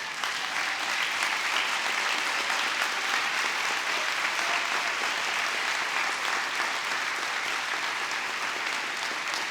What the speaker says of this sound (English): give a big round of applause to all those people who have been behind you